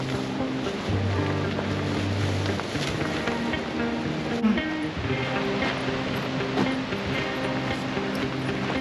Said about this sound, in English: if this wind doesn't stop, that'll be about it for the day